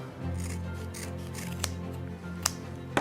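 Scissors snipping through hedge maze terrain pieces, cutting them down the middle: a steady close rasping, rubbing cut with a few sharp clicks, no talking.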